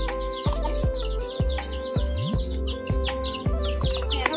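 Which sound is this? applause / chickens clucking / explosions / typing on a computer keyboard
chickens clucking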